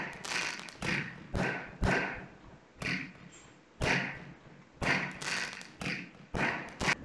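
Fireworks from an add-on in the video game Garry's Mod go off in a string of about ten separate muffled thumping bursts, each fading quickly, spaced roughly half a second to a second apart.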